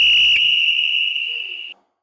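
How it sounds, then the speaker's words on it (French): A single sustained high-pitched electronic beep from a Tabata workout timer rings steadily for nearly two seconds, then cuts off abruptly into silence. "On attend le bip."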